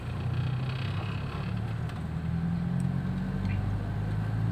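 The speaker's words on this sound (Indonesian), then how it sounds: "Ini gigi 3 muter, gigi 3 langsung injek gas" A Toyota Innova fitted with a Blackcore Ultimate part holds third gear under throttle, its engine giving a steady, loud low rumble and drone that rises slightly and runs unbroken throughout.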